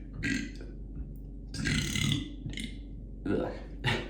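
A person deliberately burping on command, producing several short throaty belches in a row at close range, with brief pauses between them.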